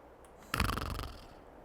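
A truck driver snores while resting in American Truck Simulator, one loud, rough snore that swells suddenly and fades over about a second, alone against quiet background.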